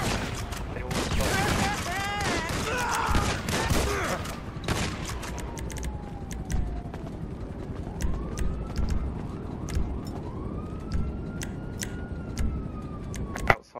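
Shotgun fire in GTA 5 Online: a cluster of sharp, loud blasts in the first few seconds, then sparser scattered shots and game effects, ending with one strong bang, with a voice talking over it.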